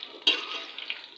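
Finger chips frying in hot ghee in a home kitchen, a steady close sizzle with a sharp clatter as the pieces are turned partway through, then soft crackling continuing alone.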